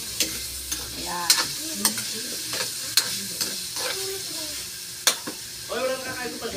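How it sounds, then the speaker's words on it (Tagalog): Potato and carrot pieces fry in hot oil for pork afritada, a steady sizzle broken by sharp spatula scrapes and knocks against the pan at an irregular pace. The sound is close and clear, with a brief voice at the end. "iprito-prito muna natin ang patatas sa carrot bago tayo mag-isa ng baboy"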